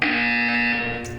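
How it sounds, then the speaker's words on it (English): A harsh, loud electronic buzzer from the Portal 2 video game sounds once as a single sustained tone of just over a second, with nothing else around it. "You will hear a buzzer."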